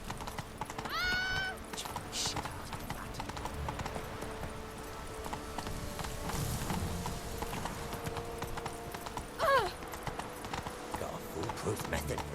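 A horse gallops in the Witcher 3 video game with steady rhythmic hoofbeats throughout, and two short neighs rise briefly above them. Game voices and music play over the hooves.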